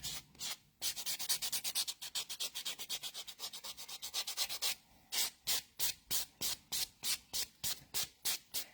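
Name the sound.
buffing block buffing dip powder nails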